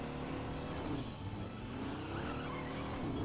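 A car brakes hard with a tire skid in the off-road racing game Fuel while driving through a canyon, its engine droning loudly over the squeal without pause.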